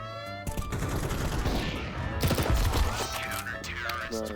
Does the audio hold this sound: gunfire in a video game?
yes